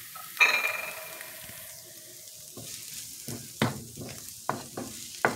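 Chicken breast goes into a pan with onion and garlic browned in butter, giving a soft sizzle broken by intermittent stirring scrapes and clatters, close and moderately loud with no talking.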